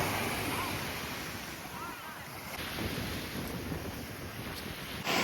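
Steady Black Sea surf washes along the shoreline at Hrybivka with wind buffeting the microphone, a continuous broadband roar with no clear individual breaks.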